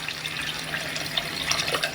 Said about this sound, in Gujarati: 1 લોટા જેટલું મેં પાણી નાખ્યું છે